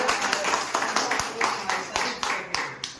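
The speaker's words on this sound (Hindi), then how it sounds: "एक बार जोरदार तालियां हो" An audience claps at a direct-selling business seminar, a moderate ragged patter of hands, fairly close and steady for about three seconds.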